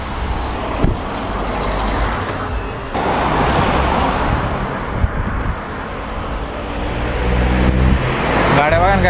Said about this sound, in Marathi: गाड्या बघा ना काय जोरात येत आहे.